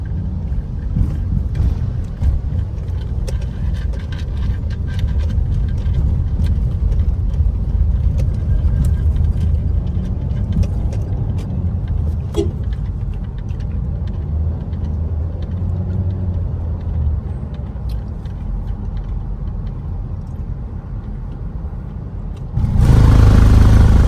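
Midday road traffic in Manila, a steady loud rumble of car engines and passing vehicles with scattered clatter throughout, swelling louder near the end.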